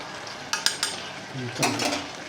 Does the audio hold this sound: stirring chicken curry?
yes